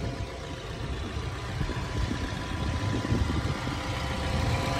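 A 2007 Ford Escape with a 2.3-litre engine and manual floor shifter idles smoothly, a steady low rumble that holds even throughout, close by and with no voices.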